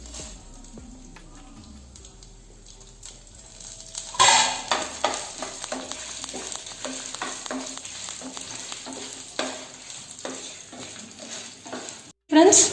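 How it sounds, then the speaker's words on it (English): Black gram dal, fenugreek seeds and coriander seeds sizzle and crackle in a hot pan with oil, a steady close frying hiss stirred with a utensil, ending in a sharp scrape. "the coriander seeds and our fenugreek seeds, it's fried well."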